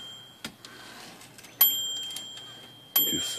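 An Olympia SM-3 manual typewriter gives a few sharp mechanical clacks from its carriage, then two bright, ringing dings of its bell, close and clear in a quiet room.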